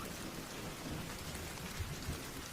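Steady rain hisses down with a dense, even patter, fairly quiet, and a low rumble rolls beneath it.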